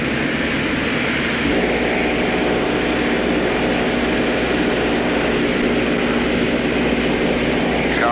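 A B-17 Flying Fortress's propeller engines drone loudly and continuously, holding a steady, close roar of the aircraft running with no pauses.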